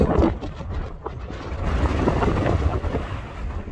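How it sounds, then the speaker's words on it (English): Strong wind buffeting a hill summit on Grindslow Knoll in the Peak District, low rumbling gusts battering the microphone, surging and easing over a few seconds. "Beggar me, it's windy."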